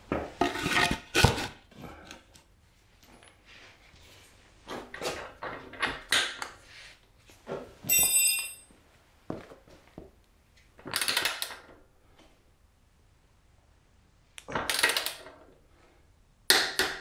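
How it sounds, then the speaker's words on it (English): Metallic clinks and clatters of tools and parts while an ABS sensor is refitted and the rear axle nut torqued on a Yamaha Tenere 700, heard as scattered close bursts with quiet pauses between them and no talk. "The last thing I will do is to remount this ABS sensor."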